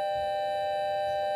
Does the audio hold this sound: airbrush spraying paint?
no